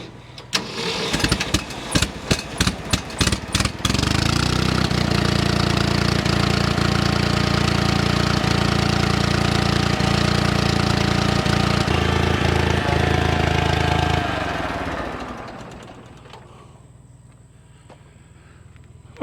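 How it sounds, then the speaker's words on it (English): A 1966 Ford 300 engine cranks with rapid starter clatter, catches and settles into a loud, steady rough idle for about ten seconds, then shuts off and winds down to quiet. "Let's start it up again and see what happens."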